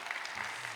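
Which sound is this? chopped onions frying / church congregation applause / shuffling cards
church congregation applause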